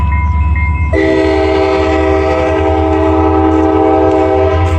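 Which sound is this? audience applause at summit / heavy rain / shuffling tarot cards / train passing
train passing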